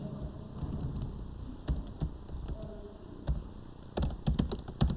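Rapid typing on a computer keyboard while entering Console.WriteLine code, with uneven bursts of key clicks and a few heavier taps, close and fairly loud, no voice.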